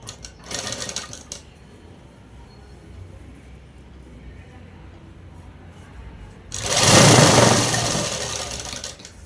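Sewing machine stitching the lining of a midi dress, a short whir near the start, then a quiet pause and a loud, close burst of stitching later that tails off.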